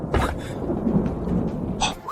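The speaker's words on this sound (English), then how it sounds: "Why a lightning tribulation?" Thunder from a lightning tribulation rumbles heavily with sharp crackling bursts over a rain-like roar, loud and close, with no talking.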